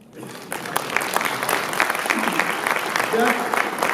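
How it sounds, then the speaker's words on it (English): Audience applause at a Founders Day speech by a fraternity president, a dense steady clapping that swells in after a brief quiet start and holds at a fairly loud level. "that's worth a round of applause"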